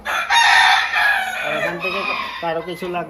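Chickens at a large poultry farm in Comilla, with a rooster crowing loudly and close by, followed by clucking hens and a hint of voices in the background.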